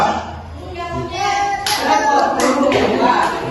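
At a preschool storytelling session, a group of children claps sharply twice as part of a counting clap game, the claps standing out loud and close over a background of chatter and voices.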